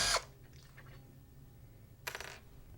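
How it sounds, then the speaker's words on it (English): Allen screws come out of a pressure reaction chamber end cap with two brief, quiet metallic clatters a couple of seconds apart. The pause between them is near-silent. "first we have to remove all the Allen screws"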